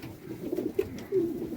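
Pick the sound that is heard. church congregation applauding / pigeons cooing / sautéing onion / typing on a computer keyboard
pigeons cooing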